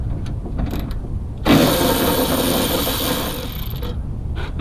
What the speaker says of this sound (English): I'm going to use my Milwaukee ratchet short extension with a 10mm socket.